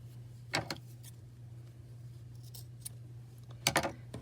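Scissors snip through excess T-shirt fabric while finishing a knotted bracelet: two short, quiet crisp cuts, one near the start and a double snip near the end, over a faint low hum.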